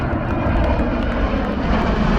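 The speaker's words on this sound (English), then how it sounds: "A military plane in the air" A military plane flies overhead at the Remembering Our Fallen Memorial at the Ferry Grounds, its engine a steady, loud, unbroken drone throughout.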